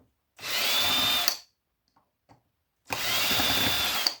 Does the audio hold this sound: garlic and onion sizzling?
no